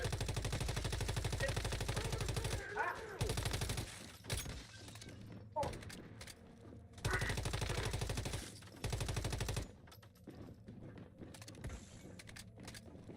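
Artillery fires in a video game as bursts of heavy, rapid mechanical pounding separated by short gaps, loud near the start and middle, then giving way to fainter clatter.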